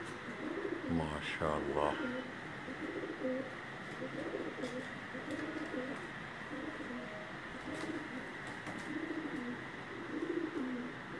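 Pigeons in a loft in Jalalpur Bhattian give soft, repeated rolling coos at a steady rhythm, with someone speaking briefly near the start and faint ambient noise around.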